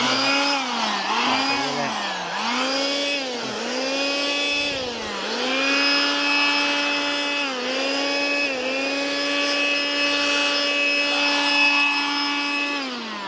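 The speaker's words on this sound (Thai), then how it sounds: "หลังจากขูดไปก็ผมก็ใช้พวกตัวเป่า" A motorized air blower clears debris from scraped grooves in a stone-pattern floor, whining loudly and continuously up close as its pitch rises and dips with the throttle.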